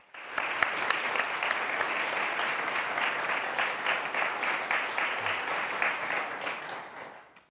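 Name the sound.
audience applauding Zahra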